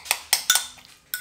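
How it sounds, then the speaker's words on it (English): A spoon knocks and scrapes against a bowl while breakfast is stirred, several sharp clinks in an uneven rhythm, close and fairly loud, with no talking. "So now I'm just going to stir it all up."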